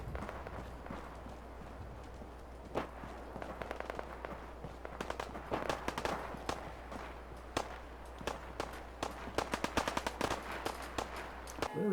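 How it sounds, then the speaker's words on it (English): Gunfire in the video game Fallout 4, a dense stretch of sharp shots and rapid bursts. Some are single cracks, others come in quick automatic strings at varying distances, with no talking. "And there's gunfire."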